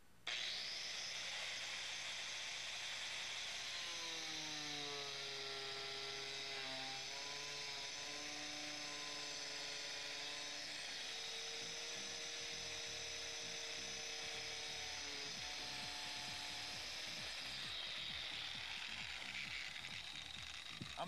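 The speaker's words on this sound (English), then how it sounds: "I find the grinder is the easiest way to cut it." Angle grinder cutting through material, a continuous high whining grind with shifting pitch as the disc bites, steady and close, with no talking.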